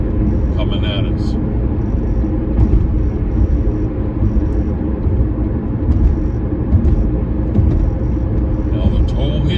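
Traffic on the Outerbridge Crossing bridge is backed up by an accident, giving a constant low rumble of car engines and road noise, close and steady, heard under ongoing talk.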